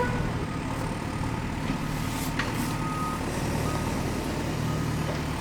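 A drop side truck in a cartoon video game backs up, giving steady electronic reversing beeps over a continuous engine-like hum, with no speech.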